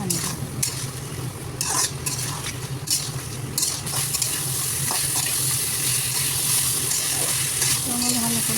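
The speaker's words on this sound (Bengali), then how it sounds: "তারপরে টমেটো কুচি দিয়ে দিলাম, দিয়ে ভালো করে নেড়ে পানি দিয়ে দেবো।" Fish curry with chopped tomato stirred in a frying pan, steady hissing sizzle with scraping spatula strokes against the pan, close and continuous, with a few clinks.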